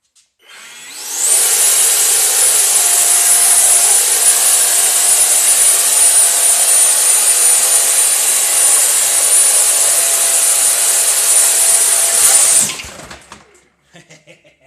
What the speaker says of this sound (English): Arm my motor. Motor on.